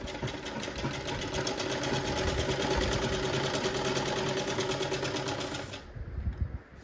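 A sewing machine stitching the edge of a dupatta, a steady rapid mechanical whirr and tick running close and loud for about six seconds before stopping.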